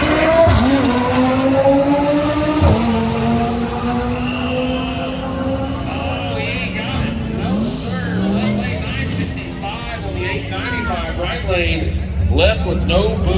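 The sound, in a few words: drag race cars, Tesla and Audi TT, accelerating down the strip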